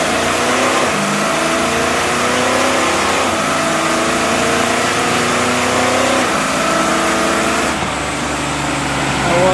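A truck engine with an overhauled, high-mileage 4L80E transmission runs on a dyno. It is loud and close, and its pitch climbs through rising gear pulls with a brief dip as it shifts, steady and continuous throughout.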